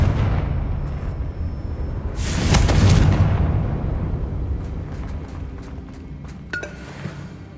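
A Confringo fire spell explodes in Hogwarts Legacy with one loud burst that blooms and slowly fades into a crackling rumble, followed by a few faint clinks and small impacts.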